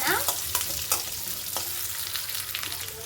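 Tamarind and green chillies frying in a pan with onion, garlic and curry leaves for a mint chutney, giving a steady close sizzle with a few sharp clinks of a stirring spoon, no talking.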